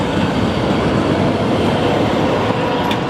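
A Green Line tram rumbles past nearby on Beacon Street with a continuous, dense roar of wheels on track, steady and fairly loud throughout.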